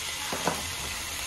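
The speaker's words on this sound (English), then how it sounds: "Get a nice sizzle sizzle out of that pork." Pork steak sizzles on an outdoor cooking setup, a soft continuous frying hiss with a couple of brief louder crackles, fairly quiet and without talk.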